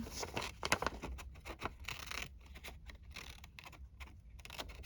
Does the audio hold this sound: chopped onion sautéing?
no